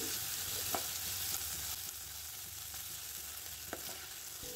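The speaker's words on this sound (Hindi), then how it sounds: "इसे मैं प्याज के साथ अच्छे से इस तरह से मिक्स करूँगी और लगातार चलाती रहूँगी" Chopped onion and grated ginger sizzle steadily in a hot pan for a red sauce pasta, with soft scrapes and taps of a spoon stirring them throughout.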